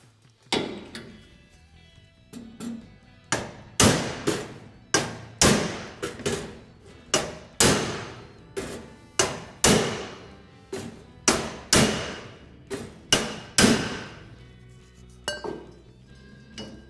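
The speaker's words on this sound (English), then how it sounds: "I'm going to heat it up, give it a whack with a hammer and hopefully get the shape I'm looking for" An 8 lb sledgehammer strikes red-hot inner bay sheet metal on a BOSS XC Falcon car, about twenty sharp, ringing metallic clangs in an uneven steady rhythm, loud and close, each blow decaying briefly before the next.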